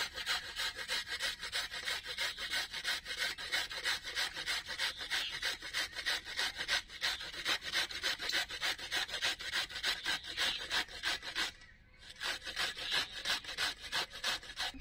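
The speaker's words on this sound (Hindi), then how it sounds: "घिसने के लिए देखिए मैंने मशीन लिया है, तो इसी से अच्छे से घिसूंगी।" Radish (mooli) being grated on a grater machine in a home kitchen, a loud, steady, rhythmic rasping scrape repeating in quick even strokes, with one brief pause near the end and no talk.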